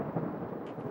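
Thunder in a lightning storm, a deep continuous rumble with rain-like wash, loud and close, no voices.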